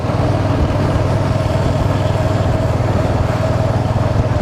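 A motorcycle engine runs steadily and loudly at the start of an early-morning Konkan coastal bike ride out of Mumbai, a continuous close rumble with no breaks.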